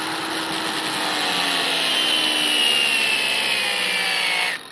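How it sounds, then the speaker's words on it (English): An angle grinder slices into a tennis ball, giving a steady, bright, whining grind with a rising and falling edge that runs nearly five seconds before easing off abruptly at the end. "put your grinder on and cut one way first"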